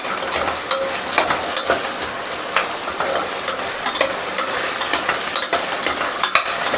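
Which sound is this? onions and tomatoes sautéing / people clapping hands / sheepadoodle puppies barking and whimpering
onions and tomatoes sautéing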